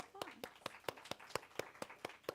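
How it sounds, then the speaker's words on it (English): A handful of hands clapping in a steady, evenly spaced rhythm for a speaker, Reverend Faith Woods, at a church service, each clap sharp and distinct, fairly close and quiet, with no other voices. "Let's give her a round of applause."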